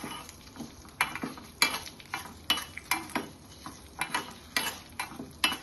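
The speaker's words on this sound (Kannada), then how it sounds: "ಆ ಕಡೆ ಎಣ್ಣೆ, ಉದ್ದಿನ ಬೇಳೆ ಹಾಗೂ ಇಂಗು, ಒಣಮೆಣಸು ಹಾಕಿ ಒಂದು ಸ್ವಲ್ಪ ಫ್ರೈ ಮಾಡ್ಕೊಳ್ತಾ ಇದ್ದಾರೆ" Urad dal, asafoetida and dried red chillies fry in a little oil, heard as a faint sizzle under a run of repeated sharp spatula clicks and scrapes against the pan, roughly one every half second.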